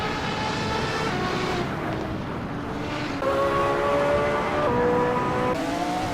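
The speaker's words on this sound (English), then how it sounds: "That is a train behind them." Train in the animated series Hot Wheels: Universe Zero, a steady, loud mechanical rumble with whistling tones that step upward in pitch, continuous throughout.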